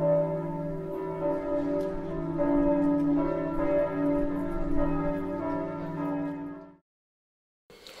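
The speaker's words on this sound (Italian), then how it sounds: "le campane suonano ininterrottamente" Church bells ring without pause in a town square, a rich sustained tolling with layered overlapping tones at steady loudness, then cut off to silence near the end.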